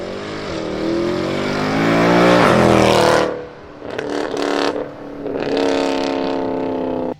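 A rear-wheel-drive Mercedes C63 sedan's 450-horsepower engine revs hard, rising loudly through gears for about three seconds before a sharp lift-off, then roaring up again in a second burst.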